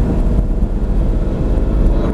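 Lamborghini engine accelerating under a squeezed throttle during a track driving experience at Prestwold, a steady close, loud low rumble that holds for the whole stretch with no voices over it.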